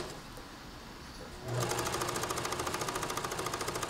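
A sewing machine stitches the side seams of a fabric Halloween pumpkin basket, starting abruptly after a quiet moment and then running in a steady, fast, close-up rhythmic chatter with no talking.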